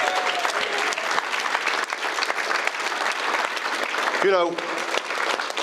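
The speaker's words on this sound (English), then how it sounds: "So give him a round of applause." Sustained audience applause fills a hall for a sports betting operation's director of trading, a steady dense wash of clapping with a voice briefly talking near the end.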